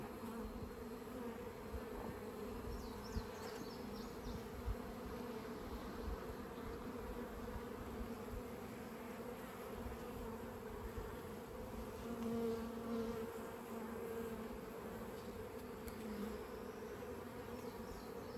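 Honeybees buzz steadily during an open hive inspection, a dense, even drone that holds close and continuous throughout with no voices.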